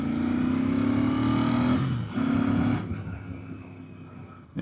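A Royal Enfield motorcycle, an INT650 or Hunter 350, runs on the road, its engine humming steadily, briefly dropping during a shift into neutral, returning, then settling toward idle, moderately loud with no voices.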